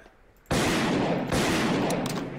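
Gunfire in a Gmod Call of Duty zombies mod, breaking out suddenly from quiet into a loud, continuous roar of rapid automatic shots lasting about two seconds, with no speech.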